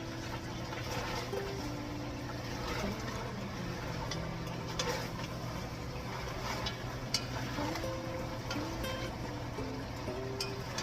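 Chicken stew with potatoes, onion and garlic being stirred in a pot, giving a steady soft scraping and bubbling texture with faint ticks throughout, continuous and fairly close with no talking.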